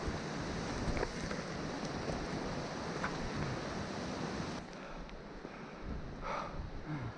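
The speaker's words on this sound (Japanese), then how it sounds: "これが猫滝でしょうか。" Neko Falls, a waterfall on a mountain trail, roars as a steady broadband rush of falling water, continuous and fairly loud throughout with no voices.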